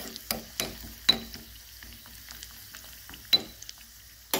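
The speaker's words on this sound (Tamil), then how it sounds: "நல்லா கலந்து விட்டுடலாம்" Cashews and raisins frying in ghee for karupatti pongal are stirred, with a soft sizzle under several sharp scrapes and taps of the spoon against the pan. The taps are spaced irregularly and there is no talk.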